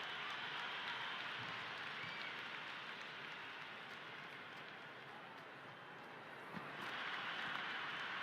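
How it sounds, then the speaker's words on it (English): Stadium crowd roaring in the cricket video game Cricket 26 during an India vs Pakistan U19 World Cup match: a dense, steady wash of cheering that holds throughout and swells again near the end. "The crowd is electric right now."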